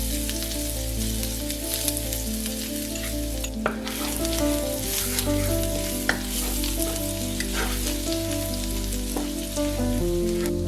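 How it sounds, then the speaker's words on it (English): Garlic and shallot sauté in hot oil in a wok, a steady, close sizzle with occasional stirring scrapes, while tonal background music plays underneath the whole time. "Sauté the remaining garlic and shallot until fragrant."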